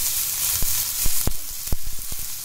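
Chopped onion sizzles on a hot tawa while being mixed. Sharp spatula taps and scrapes knock against the iron several times over a continuous hiss, and no one speaks.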